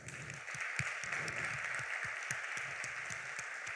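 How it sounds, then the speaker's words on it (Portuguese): A church congregation applauds in praise to God, steady clapping with low thumps that sound like rhythmic beats, probably music, running underneath the applause. "Você pode dar um aplauso ao Senhor?"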